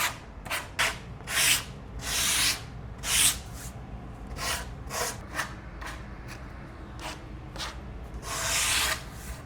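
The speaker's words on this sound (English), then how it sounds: "So I have some 150 grit sandpaper. Just gonna lightly sand the edges." Light hand sanding along the frayed edges of a butcher block countertop with 150 grit sandpaper, a series of soft raspy rubbing strokes of uneven length, close by and fairly quiet, with no talking.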